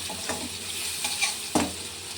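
Close sizzling of onions frying in a pan, with a few sharp scraping stirs cutting through the steady crackle.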